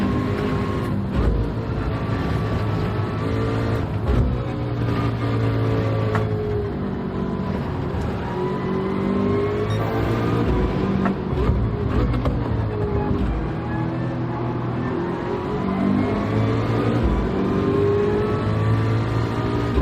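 A Ford race car in Gran Turismo 7 during a race, its engine droning loud and close with repeated rising pitch sweeps through gear changes, while other cars' engines blend in behind.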